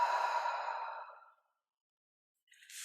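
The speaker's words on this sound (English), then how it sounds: "Exhale." A single long, soft exhale of breath during a cooling yoga practice, fading over about a second, followed by silence and a faint breathy rustle at the end.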